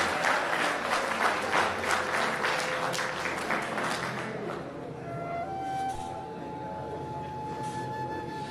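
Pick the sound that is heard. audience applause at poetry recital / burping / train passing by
audience applause at poetry recital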